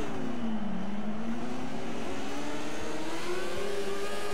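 A Formula 1 race car engine in the F1 2014 video game screams at full throttle, a steady high whine rising in pitch as it accelerates, continuous and prominent with no talk over it.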